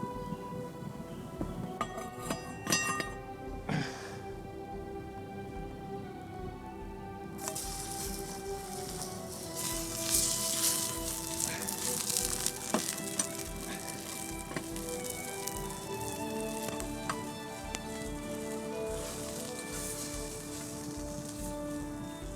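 Sausages sizzle while cooking over a campfire outdoors, a soft continuous crackling fry with occasional pops and faint clicks, quiet and close, without speech.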